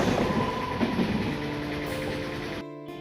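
A train rumbles past a railway level crossing with the gate lowered, a steady close rolling roar with faint wheel clatter and a high squeal, then cutting off abruptly near the end.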